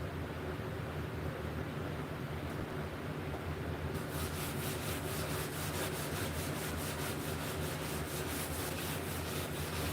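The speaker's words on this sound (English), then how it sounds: "I'm gonna have to put some sand on that." Continuous sanding on a scrap wood coffee table, a dense abrasive hiss that gains a rapid rhythmic back-and-forth scrubbing pattern partway through, close and steady without speech.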